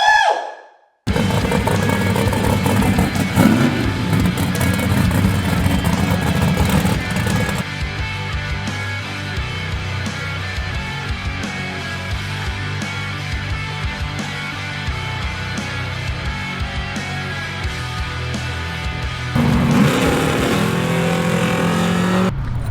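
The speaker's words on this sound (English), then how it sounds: "Kenny Morgan and Brett Bodwalk, both big block Camaros. Let's check out some footage, wheelies and burnouts" Big block Camaro drag cars doing wheelies and burnouts at a drag strip, a loud, sustained engine roar with a revving rise near the start and another surge toward the end.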